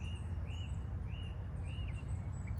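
Birds sing in open countryside of the Landes beside a cycle route, with short whistled calls repeating every second or so over a steady low rumble of distant road traffic.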